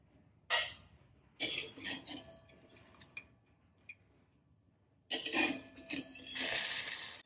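Metal utensils clink and scrape as cooked parwal (pointed gourd) is moved into another pot while making a Maharashtrian sweet dish, in a few short, close bursts separated by quiet pauses.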